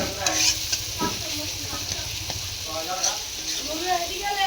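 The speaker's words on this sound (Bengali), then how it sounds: "চলো এখন মশলাটাকে একটু নাড়াচাড়া দিয়ে নিই" Spice paste for chicken being stirred in a hot pan, with a soft steady sizzle and intermittent scraping strokes of a spoon, while someone talks over it.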